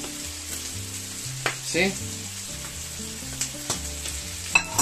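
Noodles sizzle and fry steadily in a paella pan for fideuá, with occasional stirring scrapes and knocks over a low musical background.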